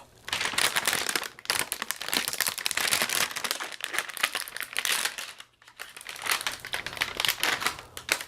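Sustained, loud crackling and crinkling of plastic wrap being stripped from an NVIDIA RTX 2060 Founders Edition graphics card, close to the mic, with one brief pause near the middle and no speech.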